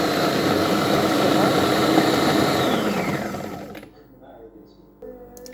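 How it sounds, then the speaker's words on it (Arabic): An electric grinder minces meat with garlic and carrots, giving a loud, steady motor whir for about three seconds before it winds down and cuts out. "نرحو اللحمه تاعنا، نرحو الزرديه هذه"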